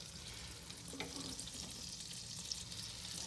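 Flour cooking in melted butter to make a roux for Alfredo mac and cheese, a soft, continuous sizzle with a few faint stirring scrapes and ticks, low and close.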